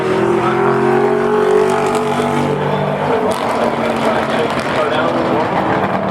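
A loud NCATS race car engine drones and revs continuously on track, its pitch shifting as it runs, with voices talking faintly underneath.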